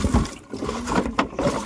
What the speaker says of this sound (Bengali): জলটা দিয়ে দিই